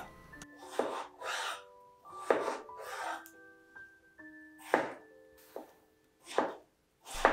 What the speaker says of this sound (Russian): Нарезаем картошку небольшими кубиками.